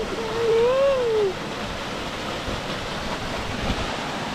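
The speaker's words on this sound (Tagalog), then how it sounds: "Waterfalls." Waterfall near a bridge on an evening walk, a steady broadband rush of falling water that holds evenly through the clip, with a brief tonal voice-like sound early on.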